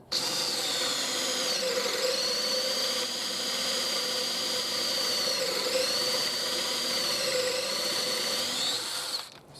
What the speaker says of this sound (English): I've got the correct bit in my drill